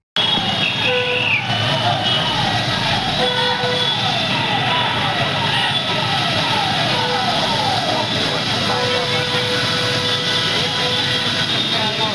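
A fire engine siren wails in repeated rising and falling sweeps as fire trucks arrive at a toy shop fire in Amravati. It is loud and continuous over a dense rumble of engines and traffic.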